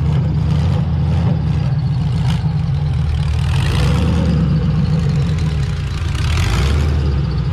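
A car's engine idles steadily at close range in a carpark during a drifting ad shoot, its deep, low rumble holding constant for the whole stretch with no talk over it.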